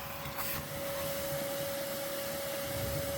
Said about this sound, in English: So now everything's all vacuumed up.